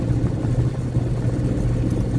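A truck engine idles steadily inside the cab while deadheading toward Green Bay, Wisconsin, a continuous low, loud drone without breaks and no voices over it.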